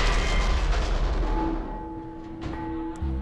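A tank cannon fires in War Thunder, a heavy low boom that rolls out and decays with a lingering rumble, followed by a softer second thud near the end.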